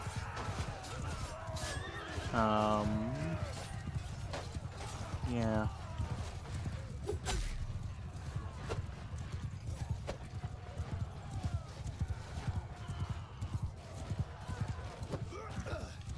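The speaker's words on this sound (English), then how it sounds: "Rogue horses all over the place." Horses in the Bannerlord video game give two loud, wavering neighs over steady, rapid clip-clopping hooves amid battle noise, with a player speaking briefly.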